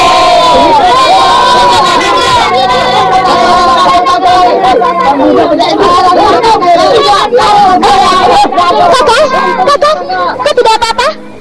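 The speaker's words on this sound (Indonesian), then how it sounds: "orang-orang padukuhan yang sejak tadi berdiri tegang, kini berteriak dengan penuh semangat" An excited crowd of villagers shouts and cheers loudly and continuously, a dense mass of raised voices with some higher children's cries mixed in, close and sustained throughout.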